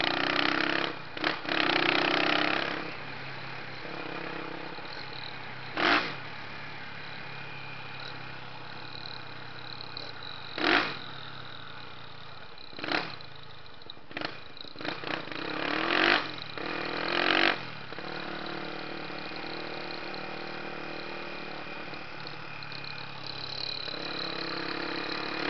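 A Kawasaki Ninja motorcycle engine holds a steady idle, broken by several sharp, short revs and a cluster of quick blips midway, recorded close with no talk.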